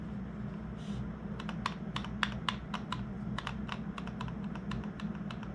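Light plastic clicking and rattling from the loose cover cap of an ASUS ROG Chakram gaming mouse, a quick irregular run of close, crisp ticks over a steady low hum, with no talking.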